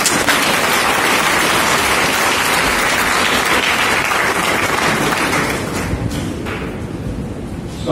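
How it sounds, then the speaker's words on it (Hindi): Audience applause breaks out during a Hindi question-and-answer talk on Swami Vivekananda, dense and steady clapping for about five seconds before thinning and fading. "उत्तर ठीक है तो ताली बजाओ।"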